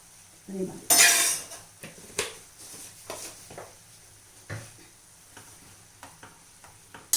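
Chilli powder for a homestyle gooseberry pickle is stirred in a hot pan, with scattered scrapes and clinks of a metal spoon against the pan over a faint sizzle.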